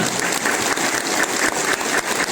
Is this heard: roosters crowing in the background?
no